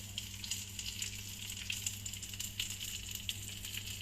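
Roach fish frying in a pan with thyme, a steady close hiss and crackle with small scattered pops, continuous and even with no voices.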